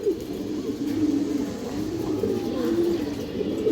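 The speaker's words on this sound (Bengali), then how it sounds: "হালকা লাল গিয়ার এবং সিলভার জাবরা কবুতরের বাচ্চা" Pigeons, including young red and silver Jabra birds, cooing steadily in low, rolling throaty calls that overlap close by, with no talk.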